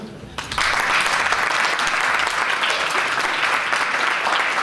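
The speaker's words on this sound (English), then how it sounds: "Just a round of applause." Audience applause at a foundation anniversary program in The Hague, starting abruptly after a brief quiet moment and continuing as a loud, full, steady clapping from a large crowd.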